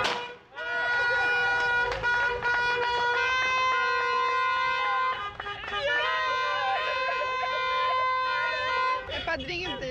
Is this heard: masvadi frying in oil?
no